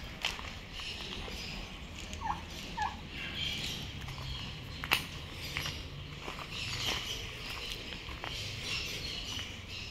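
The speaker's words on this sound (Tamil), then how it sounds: "இப்போ பார்த்தீங்கன்னா இங்கே ஒரு கோழி இருக்குது" A chicken clucks faintly at an animal park farm in Pondicherry, giving a few short scattered calls over outdoor background noise, with occasional soft footsteps and thuds.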